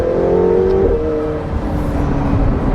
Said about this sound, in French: Quand tu la mets dans le mode sport, elle fait des bam quand tu changes de vitesse d'un coup.